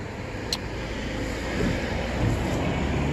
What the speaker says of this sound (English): Ooh, car on the other side too.